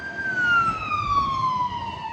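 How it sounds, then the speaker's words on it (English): A loud siren wails alone, its pitch sweeping steadily downward over a couple of seconds, with a faint rumble beneath. "See that trumpet, man, blowing that siren, man, that noise"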